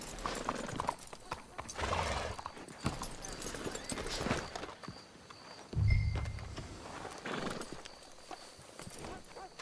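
Horse hooves clip-clop at a steady walking pace in Red Dead Redemption 2, with an occasional whinny, voices talking quietly over the top and a low thump partway through.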